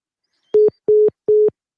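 After a phone call disconnects, a telephone line gives three even, clean tone beeps with short silent gaps between them, loud and close, with no voices.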